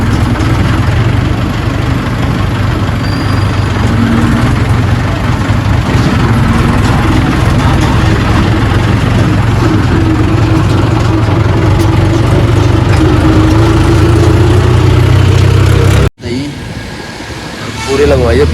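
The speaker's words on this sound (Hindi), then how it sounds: "गाड़ी पलट रही है।" A vehicle engine drones steadily at a low pitch while the vehicle turns on a busy morning road, with people talking over it, before an abrupt cut to a quieter section.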